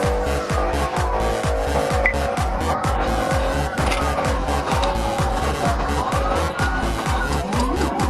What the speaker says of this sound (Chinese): 他的选择是油门焊死